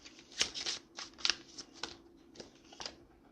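Tarot cards are shuffled and pulled by hand, giving close papery riffles and snaps in irregular bursts over a quiet background with no talking.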